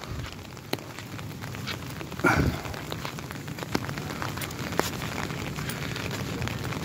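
Steady rain falling on a lake park in Padang Pariaman, a continuous soft patter with scattered droplet ticks and one brief louder splash.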